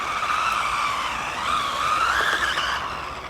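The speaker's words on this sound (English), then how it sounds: "I'm just going full throttle everywhere, but there is some traction there" A cheap Pinecone RC car skids at full throttle, its small motor whining high and steady with tire-scrub hiss rising and falling continuously, close and fairly loud with no voices.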